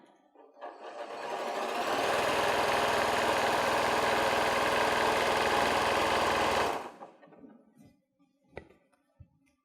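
A sewing machine runs steadily for about five seconds, stitching fabric for an autumn fabric bucket with a pumpkin applique, with a smooth continuous whir that starts and stops abruptly, followed by a few light clicks.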